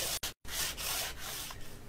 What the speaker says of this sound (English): Now is the time to sand down your fretboard to get it as smooth as you want it.